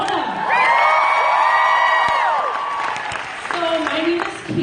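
A large audience in Phoenix, Arizona applauding and cheering loudly, with whoops and shouts over dense clapping that swells early and tapers slightly, while a voice speaks over the crowd noise.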